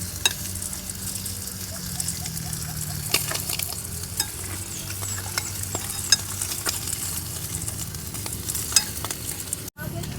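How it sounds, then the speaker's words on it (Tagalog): Spam fries in its own fat in a pan at a riverside camp, a steady crackling sizzle with occasional sharp pops and stirring scrapes throughout, fairly close and with no talking. "nagpiprito ako ng spam gamit sa sarili niyang mantika"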